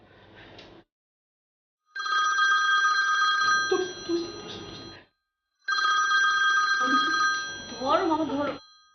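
An old landline telephone rings in two long bursts with a short gap between them, loud and close by. People talk over the second half of each ring.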